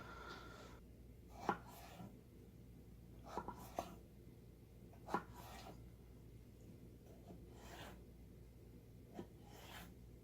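Knife slicing potatoes into thick slabs on a cutting board, a handful of sharp isolated thunks spaced a second or two apart, close and fairly quiet over a soft kitchen background hum.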